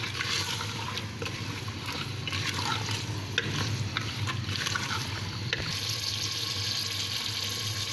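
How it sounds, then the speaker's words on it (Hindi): Carrots and peas tipped into a cooking pan, with soft stirring and scraping, a faint sizzle and scattered light clatter of vegetables against the pan at moderate, even loudness. "अब ये सारे गाजर डाल दूँगी इसके अंदर।"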